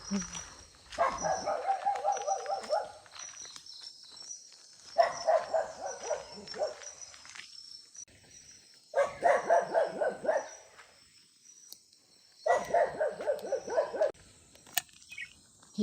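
A dog barks in repeated bursts of several quick barks, separated by short quiet gaps, fairly close, with a faint high-pitched tone running underneath.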